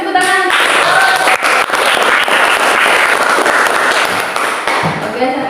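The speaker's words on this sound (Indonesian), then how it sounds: "kasih tepuk tangan" Students clapping in a classroom during a chemistry lesson on voltaic cells, a loud, dense burst of clapping that fills the clip, with a voice briefly heard at the start and end.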